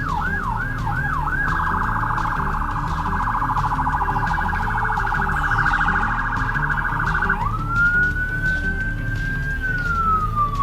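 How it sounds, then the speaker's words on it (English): Emergency vehicle sirens blare near a shopping plaza, first a rapid yelp, then a long steady wail that slides up and holds before dropping away, loud and continuous throughout. "More sirens."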